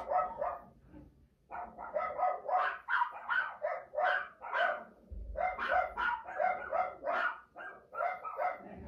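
Several dogs bark repeatedly in loud, overlapping bursts, a continuous chorus of barks and yips close by with only brief pauses.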